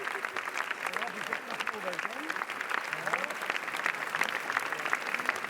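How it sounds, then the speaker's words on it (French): Crowd applause on the red carpet steps at Cannes 2022 for the comedy Coupez!, a continuous dense clapping with someone talking over it throughout. "Il y a déjà des applaudissements"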